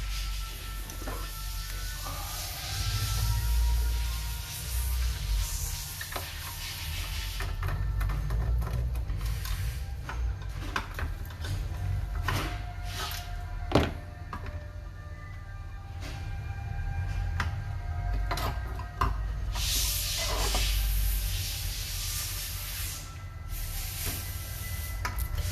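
A faulty ventilator machine has a module removed by unscrewing, giving irregular clicks, small knocks and rubbing handling noises, close and fairly steady, over a low background hum with no talking.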